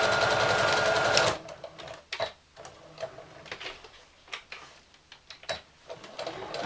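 A sewing machine stitches a gift bag seam, loud and continuous for about a second before stopping, followed by scattered ticks and soft handling clicks up close.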